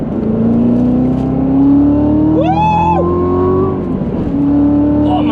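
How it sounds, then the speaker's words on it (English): A Chevrolet Corvette C7 Z06 pulls hard in second gear on a freeway, its engine note climbing steadily and loud from inside the cabin, with a brief rising whine mid-pull and the drone continuing steady afterward. "I'm on 2nd gear, I'll try to get a little bit of acceleration pull"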